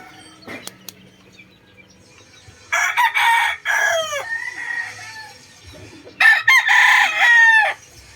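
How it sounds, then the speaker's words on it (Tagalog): Roosters, including a Boston Golden Boy, crow loudly twice, each call long and drawn out, with soft clucking and faint farmyard noise between them. "maayos mga manok dito mga guys"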